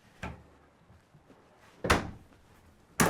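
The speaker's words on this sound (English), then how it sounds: "Slide out very nicely." Deep drawers in a 2026 Grand Design Momentum G-Class 29GS toy hauler travel trailer slide and bump shut, giving three distinct close thuds with quiet rustling between.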